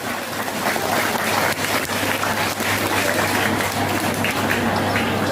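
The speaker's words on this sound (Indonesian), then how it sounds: "Tepuk tanganlah dulu" Steady applause from parents and guests at a school year-end report card and prize ceremony, dense continuous clapping sustained throughout.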